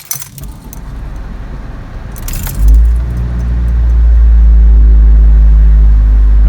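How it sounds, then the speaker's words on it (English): Keys jangle briefly, then the engine of a 2005 Ford Focus with a Duratec motor starts and settles into a loud, deep, steady idle with heavy vibration and a throbbing low rumble. "The problem is the car sounds like a tractor."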